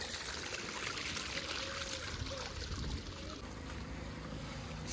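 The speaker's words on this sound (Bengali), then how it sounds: "জ্যাঠা জল দিচ্ছ? পাইপে করে জল দিচ্ছে এখন।" Water running from a hose pipe onto a house courtyard, a steady rushing splash throughout that eases slightly toward the end, fairly close.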